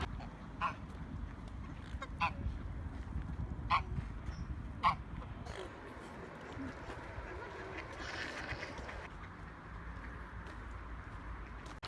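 Swans on a pond at the foot of Arthur's Seat give several faint, scattered honks over steady outdoor wind and water noise, with no talk.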